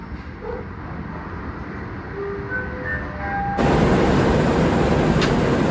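The Gaya Baru Malam Selatan train pulls away from Monokromo station, a steady loud rumble of rolling wheels and carriages that suddenly grows louder and fuller as it passes close by.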